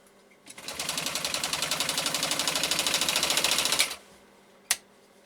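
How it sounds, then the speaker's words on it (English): A Husqvarna Viking 51E sewing machine stitches a zigzag in one steady, rapid run of clattering needle strokes lasting about three seconds, then stops, followed by a single sharp click. "I'm going to see if I can lay down a zigzag next to this"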